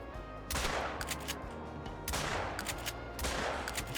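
Shotgun blasts in the hunting game theHunter: Call of the Wild, three loud booming shots spaced about 1.3 seconds apart, each trailing off into a rumbling echo over outdoor ambience.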